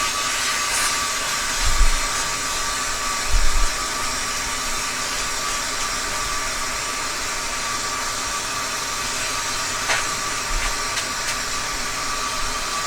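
A vacuum drawing string through an underground conduit pipe, a steady whooshing suction roar that runs throughout, with a few low thumps and bumps along the way.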